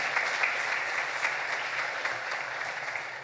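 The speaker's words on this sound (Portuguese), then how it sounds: "Uma salva de palmas para ele," A community audience applauds warmly, dense continuous clapping from many people that holds steady at moderate loudness throughout.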